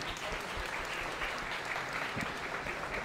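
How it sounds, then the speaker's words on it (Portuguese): An audience at a stage hypnosis show in Porto Alegre breaks into steady, dense applause that fills the room for the whole stretch, with no pauses and only faint voices beneath the clapping. "Uma salva de palmas para os nossos astros."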